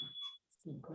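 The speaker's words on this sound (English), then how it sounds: "Is that the fire alarm? Microwave's done." A microwave gives a thin, high electronic beep during a planning board meeting, short and moderately faint, sounding beneath people talking.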